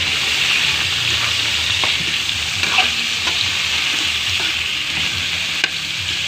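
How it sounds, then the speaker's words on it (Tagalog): Sayote sizzles in an oiled pan for tinola with mussels as it is stirred, a constant loud frying hiss broken by faint scrapes and taps of the spoon. "At halo-haloin natin ng konti mga lodi."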